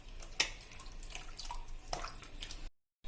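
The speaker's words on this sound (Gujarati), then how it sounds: "આપણે આ ઠંડા પાણીથી માખણ ધોયું" Butter being washed by hand in cold water, with soft splashes and drips and a couple of sharper sloshes over a few seconds, ending abruptly in silence.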